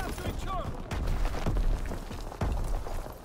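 Burst gunfire from a first-person shooter match in Call of Duty: WWII, several sharp close shots cracking out in quick succession over background game noise.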